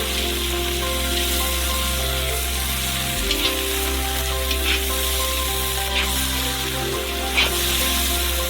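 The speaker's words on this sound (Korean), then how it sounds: "이제 기름에 향이 배겼고 가재를 튀겨주면 돼요" Crayfish fry in hot, aromatic oil with a loud, steady sizzle under a constant low hum, and a few crackles and stirring sounds now and then.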